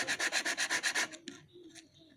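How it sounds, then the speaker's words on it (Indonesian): Rapid rhythmic rasping of hand-sanding a motorcycle starter carbon brush on flat sandpaper, about eight quick back-and-forth strokes up close, then a few scattered scrapes and taps. "di permukaan rata kita amplas-amplas terus"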